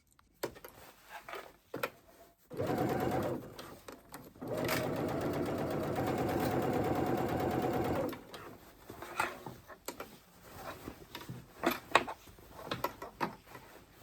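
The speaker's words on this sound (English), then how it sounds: "you're just going to go ahead and sew your band onto your bodice using your 5/8 seam allowance" A sewing machine stitches a band onto a dress bodice in two long steady whirring runs, a short one and then a longer one, with quiet handling clicks and rustling before and after.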